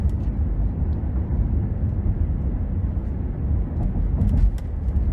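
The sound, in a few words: Mercedes-Benz GLC 300 4MATIC driving in Sport Plus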